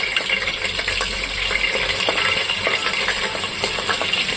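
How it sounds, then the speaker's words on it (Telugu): Paneer fries in hot oil in a pan for a paneer and peas masala curry, giving a continuous close sizzle dotted with small crackles and light metallic clinks. "ఫస్ట్ పన్నీర్ వేయించుకొని తీసుకోవాలండి"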